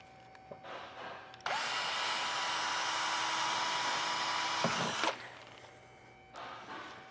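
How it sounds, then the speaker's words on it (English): A power drill bores out a seized bolt on a hitch receiver install on a 2023 BMW X4, starting with a few short bursts, then running one continuous high whine for about four seconds before stopping, with quieter clatter afterward. "And just drill it out like that."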